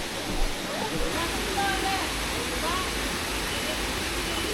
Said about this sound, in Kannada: ಇದೆ ನೋಡಿ ನಮ್ಮ ಮೊದಲ ಜಾಗ, ಹ್ಯಾಂಡ್ಬಾಲ್ ಫಾಲ್ಸ್, ಅಬ್ಬಿ ಫಾಲ್ಸ್ ಅಂತೆಲ್ಲ ಹೇಳ್ತಾರೆ